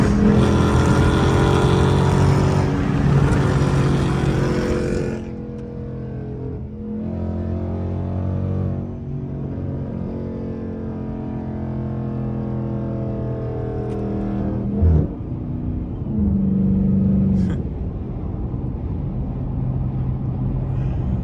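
A truck's straight-piped 5.7 engine with gutted catalytic converters roars loudly from the driver's seat, a harsh rev burst followed by a deep, steady rumbling drone with rising and falling pitch as it drives.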